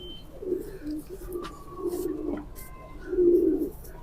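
Pigeons of a fancy breeding flock cooing close by in soft, throaty, repeated low calls, with faint background noise and no talk.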